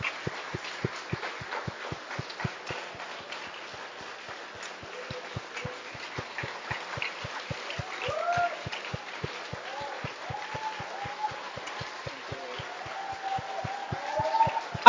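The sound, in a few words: audience clapping hands hard in a church service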